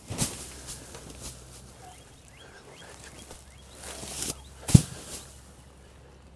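Poultry clucking and scratching around nearby, with soft rustling and a brief thump partway through; no talking.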